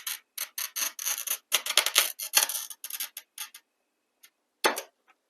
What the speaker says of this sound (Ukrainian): І тепер беремо ось так в руку стеклоріз і за один прохід натискаємо.